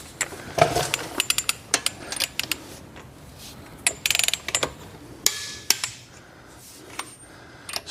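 Lug nuts on a Ford Raptor's wheels are tightened in a star pattern: irregular sharp metallic clicks and ratcheting clanks, close and fairly quiet, with short pauses between bursts.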